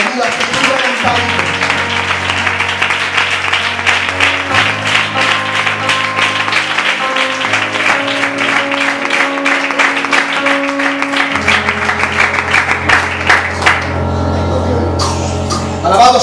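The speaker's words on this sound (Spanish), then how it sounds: "Dale otro aplauso al Señor," A church congregation claps continuously and fairly loudly while sustained organ or keyboard chords play underneath, and voices are heard over the applause.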